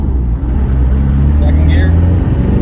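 A Land Rover Defender 90 300Tdi pickup's diesel engine pulls in first gear, a steady loud low drone heard from inside the cab throughout.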